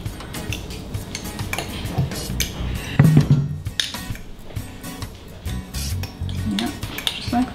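A spoon mashes and scrapes food in a bowl, with irregular clinks and soft squelching scrapes at close range and a sharper knock midway, mostly alone with little talk.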